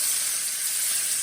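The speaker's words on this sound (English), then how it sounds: "You hear that sizzle? That's what you want." Chicken browns in a hot pan for smothered chicken, giving a steady, close, bright sizzling hiss that holds evenly throughout, with no talking.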